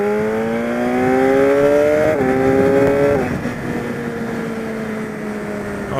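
A 2014 BMW S1000RR motorcycle accelerates hard, its engine note climbing steadily and then dropping sharply twice as the quick shifter clicks through gears, loud and close with no talking.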